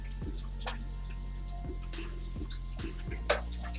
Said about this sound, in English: So just go ahead and rinse that.